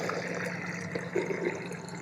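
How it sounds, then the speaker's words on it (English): Small water pump running quietly as it fills a caravan's fresh-water tank from an Aquaroll, a low steady hum with faint trickling and gurgling of water. "I can now join these two together and it starts pumping"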